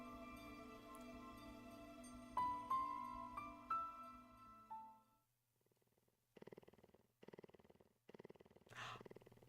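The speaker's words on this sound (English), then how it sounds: "Purring noises." A cat purrs in a video game, with rhythmic rumbling pulses in the second half following a tonal musical passage, fairly quiet and alone.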